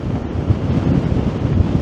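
Strong wind on a beach buffets the microphone with a constant low roar, gusting slightly, loud and close with no voices.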